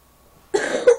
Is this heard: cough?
yes